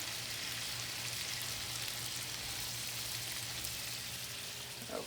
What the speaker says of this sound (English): I really just want to saute these onions down